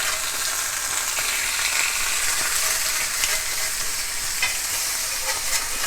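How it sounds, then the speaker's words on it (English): Salmon sizzles steadily in a Lodge cast iron grill pan over medium-high gas heat, a loud, continuous close-up frying hiss with faint crackles and no talking. "We're cooking it on a fairly medium-high heat, just so we can get some beautiful marks on the meat"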